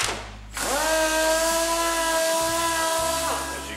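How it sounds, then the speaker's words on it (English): Power sander working a Peavey Predator guitar body, cutting through the paint into the wood: a steady whining drone with a sustained tonal hum that starts abruptly after a brief pause and runs continuously, loud and close, without talk. "I'm gonna sand down into the wood."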